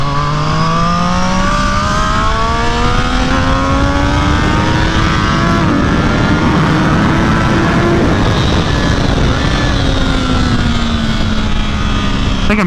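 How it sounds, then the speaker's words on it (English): A race car on track at Buttonwillow Raceway screams near its rev limiter, a loud sustained engine note whose pitch climbs, briefly dips and climbs again, heard close from inside the car with wind roar throughout. "I think I'm hitting the limiter there."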